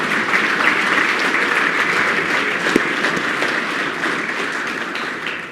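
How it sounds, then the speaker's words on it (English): A conference audience at a tower crane engineering event gives a final round of applause for the speakers, a loud, dense and steady clapping from many hands nearby that lasts several seconds. "Please give a final round of applause to all the speakers"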